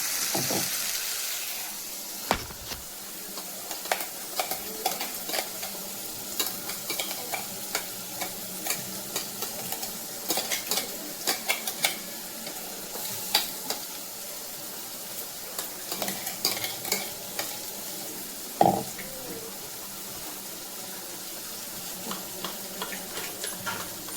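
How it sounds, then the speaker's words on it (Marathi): Ground coconut masala with ginger garlic paste sizzles in a pan for a Maharashtrian rassa matki usal, with steady frying hiss and repeated sharp scrapes and clinks of a spoon stirring, close and without talk. "अशा प्रकारे आपला मसाला छानपैकी परतून घ्यायचा आहे."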